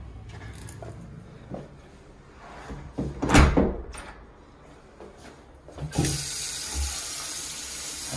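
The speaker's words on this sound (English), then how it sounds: "I always run all the faucets," Faucets running in a house during a walk-through before closing, a broadband water rush with cupboard or door knocks, a louder burst near the middle and a steady stream toward the end.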